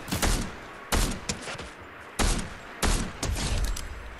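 Gunfire in the Fortnite video game arrives as several sharp, loud bursts of shots spaced a second or so apart, each burst followed by a brief rattling tail.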